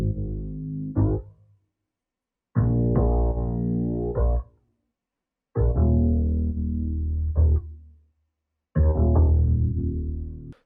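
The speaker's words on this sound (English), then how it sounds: "I added this bass from the Contact Library, Jazz Upright." A Jazz Upright bass patch from the Kontakt library, shaped with EQ and an LFO, plays four sustained low notes with pauses between them, loud and close with no other sound.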